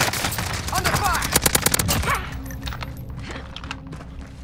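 Rapid automatic gunfire from a Call of Duty: Modern Warfare match bursts loudly and close in a dense volley, then gives way to scattered distant shots and battlefield rumble.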